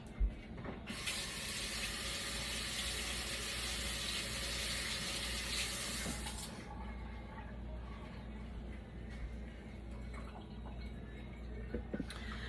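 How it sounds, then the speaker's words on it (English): Water running from a tap while hands are washed in a home kitchen, a steady close, soft flow with light splashing that eases after a few seconds and continues as a low background. "I'm going to give my hands a quick wash."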